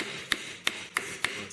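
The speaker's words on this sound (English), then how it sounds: "So hammer one end and then turn it over before you get too far around, and hammer the other end." Four sharp metallic hammer taps on a ring held on the thin end of a mandrel, evenly spaced about a third of a second apart, close and clear over a quiet background.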